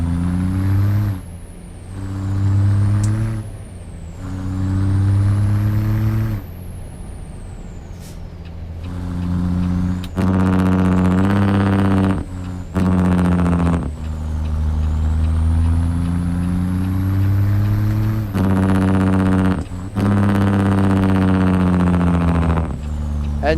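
A Peterbilt 389 truck in a driving game with a Big Cam Cummins engine sound mod, loud steady diesel drone rising and falling through the gears, with sharp air brake hisses between shifts.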